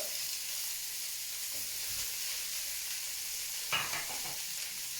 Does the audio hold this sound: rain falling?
no